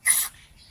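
Short hissing burst of cleaner sprayed into a car PCV one-way valve, loud for about a quarter second, then quiet with a faint second puff near the end.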